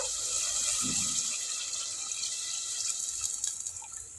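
Water splashes and pours steadily into a pot of cooking mutton curry, a close, continuous liquid hiss that trickles off toward the end.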